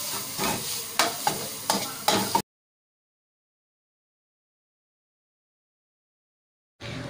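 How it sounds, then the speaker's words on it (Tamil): Minced chicken sizzles and crackles in a pan as it is stirred with a few scraping strokes, then abrupt silence before the sizzling briefly returns. "சிக்கன் நல்லா கிளறி விட்டுட்டே இருங்க"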